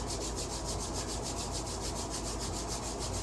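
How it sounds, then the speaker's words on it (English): Palms rubbing together during a guided self-massage, a steady continuous swishing friction heard up close with a faint rhythmic pulse, lasting the whole stretch without any talk. "Rub the hands together."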